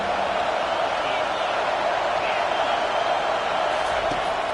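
A large stadium crowd in a college football video game, Ole Miss at LSU, roars continuously, a dense, sustained wash of cheering without breaks.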